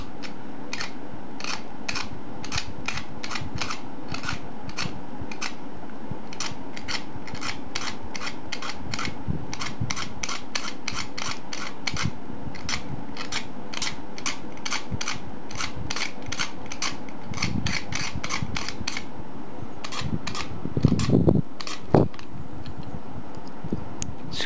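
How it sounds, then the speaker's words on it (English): A knife blade scrapes the sharp plastic corners of a Type A-V (Alpha-V) puzzle round. It makes a rapid, rhythmic series of close, dry scratching strokes that continues steadily, with a few louder knocks near the end and no talk. "So what you do is just scrape the sharp edges of the corners until they're round."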